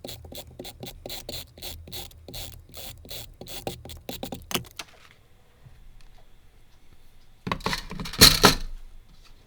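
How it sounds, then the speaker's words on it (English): A tape runner laying adhesive tape for paper crafting and die-cut stamping gives a quick series of close, rhythmic ratcheting clicks for several seconds, then a pause and one short, louder burst of rasping near the end, with no talking. "I'm just going to use my tape runner for that."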